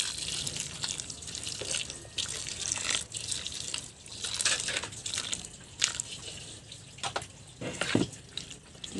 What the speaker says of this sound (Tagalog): Ito po, bubuhusan ko ng kumukulong tubig.